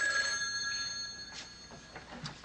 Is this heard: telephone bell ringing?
yes